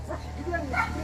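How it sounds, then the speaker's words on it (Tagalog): A small dog gives short, yipping barks close by, a couple of quick high yelps heard under and between a person's talking. "makagat ka, may aso."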